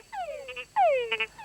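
A frog gives two loud, close croaks, each a bright falling call with a short rattling trill at its tail and a brief pause between the two.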